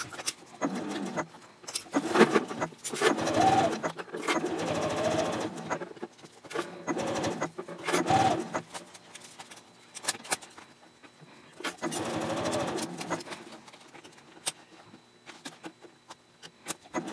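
A sewing machine stitches around the body of a multipurpose zipper case bag in bursts of steady whirring, several runs starting and stopping over the stretch, close up, with brief handling noises between runs and no talk.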